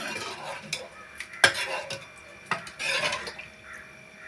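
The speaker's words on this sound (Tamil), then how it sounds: "கலந்து விட்டுக்கலாம்" A spoon scrapes and clinks against a metal pot of paruppu keerai kadaiyal in short, irregular strokes, fairly close and quiet, with no talking.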